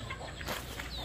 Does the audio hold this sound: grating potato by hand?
no